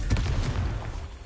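A Confringo fire spell explodes in Hogwarts Legacy, a short, deep booming blast with a rumbling tail that fades within about a second.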